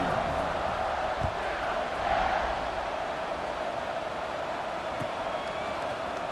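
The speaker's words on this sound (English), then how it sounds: "this crowd is buzzing after that last score." A stadium crowd in an American football video game keeps up a constant loud murmuring buzz, a dense wall of distant voices with faint swells and no distinct cheers.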